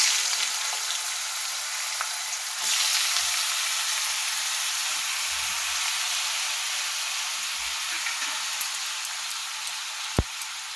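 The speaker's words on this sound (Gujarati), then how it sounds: "હવે આપણે ઘી ગરમ થઈ જાય એટલે આપણે છીણને આમાં એડ કરી દઈશું." Grated sweet potato fries in hot ghee in a pan, a steady close sizzle and hiss that holds throughout, with a sharp clink near the end.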